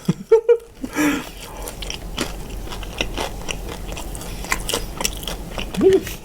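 Crispy pork being bitten and chewed close to the mic, with loud crunches and wet mastication sounds repeating irregularly, plus a few short vocal noises.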